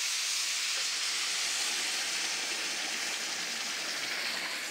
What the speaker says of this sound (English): So I'm adding the 3 cups of the tomato sauce